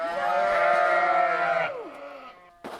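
Lambs bleat loudly inside an opened livestock truck, a dense chorus of overlapping cries that fades and thins toward the end before one more bleat bursts in close by.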